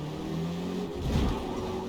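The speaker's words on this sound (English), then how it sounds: "I'm pretty sure it's turbocharged because it just feels like there's a" A turbocharged race car engine in the Forza Motorsport racing game revs loudly and steadily, with a steady tone that gives way to a rising surge of power partway through.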